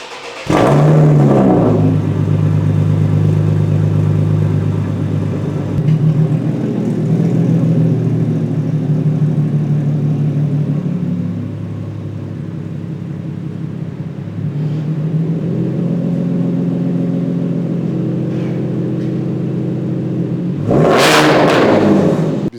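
A stock, naturally aspirated 330-horsepower 3.7-litre V6 in an Infiniti G37S drones loudly and close for over twenty seconds, with a sharp rev surge at the start and another near the end.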